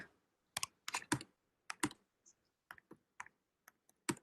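Computer keyboard keys pressed in short irregular clusters of clicks, close and crisp, as shortcut combinations are typed in a quiet room.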